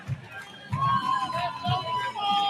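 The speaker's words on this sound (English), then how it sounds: "The fans are going crazy here." A boxing crowd cheering and clapping after the final bell, a roar of voices swelling and dipping over a couple of seconds, with a commentator speaking over it.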